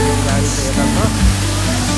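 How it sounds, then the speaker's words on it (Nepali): A waterfall roars steadily at close range, a dense, unbroken rush of falling water filling the whole stretch, with a faint voice barely audible beneath it. "तर यहाँको झर्ना यस्तो बबाल छ"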